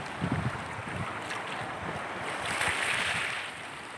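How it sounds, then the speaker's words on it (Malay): Strong wind buffets the microphone on a fishing boat at sea, with rough waves washing and slapping around the hull in a steady, blustery roar. "Angin begitu kencang, keras sekali ombaknya."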